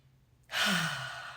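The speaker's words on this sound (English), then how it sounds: "So let's just take a deep breath." One deep breath drawn in and released in a long, audible sigh, close and clear, with quiet before it and no talking.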